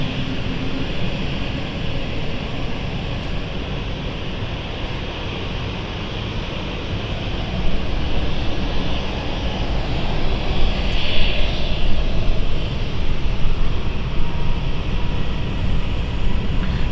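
A Swiss airliner departing London City Airport for Zurich gives a steady, loud jet engine roar that swells in the second half, with no speech.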